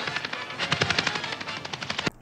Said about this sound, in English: Shots fired, Adam West.